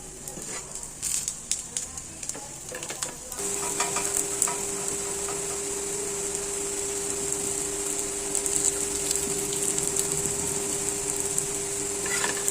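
Vegetable cutlets frying in oil in a pan, a steady close sizzle that starts after a few seconds of faint clatter and continues evenly with a constant hum underneath.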